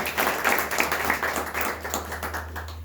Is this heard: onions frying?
no